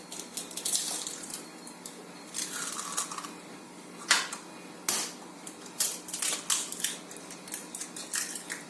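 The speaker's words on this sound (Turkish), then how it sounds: "Şimdi şekerimizi ve yumurtalarımı kırıyorum" Several sharp cracks and taps as eggs are broken into a bowl with sugar in a quiet kitchen, with brief splashy sounds between them, close and moderately loud.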